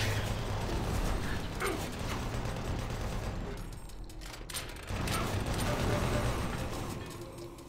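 Rapid chaingun fire in the Doom 3 video game, played in co-op, with dense continuous bursts and mechanical clatter that pause briefly mid-clip before resuming loudly.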